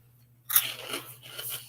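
Crunchy food chewed up close during a mukbang, with a quiet pause before a burst of dense, crackling bites and steady crunching that continues over a low background hum.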